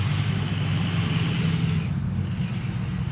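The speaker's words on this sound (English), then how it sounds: "we don't have a muffler around here for any of the trucks that go by, which I'm sure you can hear in the background" Trucks without mufflers passing by on a nearby road, a constant loud, low engine roar that fades slightly toward the end, heard in the background outdoors.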